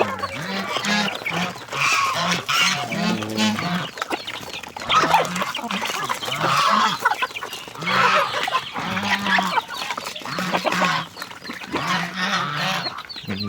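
Backyard flock of chickens, geese and bantams calling together, with repeated honks and clucks and squawks overlapping loudly and close, nearly continuous, and a person speaking briefly beneath them.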